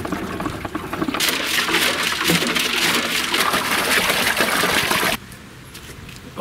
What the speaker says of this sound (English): Continue to go with the water and clean this tank inside.